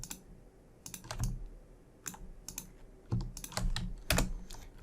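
Computer keyboard typing with scattered clicks while modeling in Maya, a quiet, close run of irregular key taps in short bursts, with no voices.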